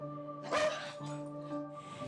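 Scamp the dog gives two or three short barks close by, over a steady hum in the background.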